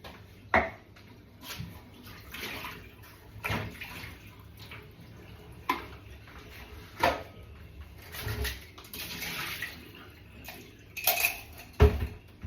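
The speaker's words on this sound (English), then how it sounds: "Lots of washing up to do tonight. So let's get this all tipped out." Dishes, pots and cutlery clatter and clink into a sink amid splashing water, with sharp knocks scattered unevenly throughout, fairly close.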